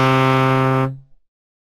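A deep, loud horn blast sounds once, holding steady before fading away quickly.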